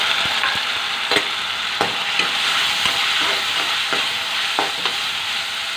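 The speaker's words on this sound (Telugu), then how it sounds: "ఆనియన్స్ ఫ్రై అయ్యి శనగపప్పు వేస్తున్నాను" Chana dal goes into frying onions in a pan, giving a loud, steady hiss of sizzling oil with regular scraping strokes of a spatula stirring close by and no voices.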